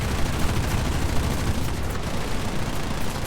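Cannon fire from a Yak-1 fighter plane in a combat flight video game, a dense, continuous, loud roar of rapid gunfire mixed with engine noise lasting throughout with no pauses.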